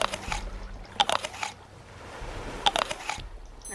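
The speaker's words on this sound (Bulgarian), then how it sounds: "Да хапна." A character eats food in the survival video game Stranded Deep, with two crunchy bites about a second and a half apart, each followed by moist chewing over soft game ambience.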